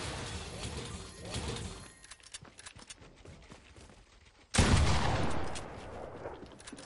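Rapid bursts of gunfire from the video game Fortnite, a dense crackling volley fading into scattered shots, then a loud sudden blast with a sustained rumble, with faint talk underneath.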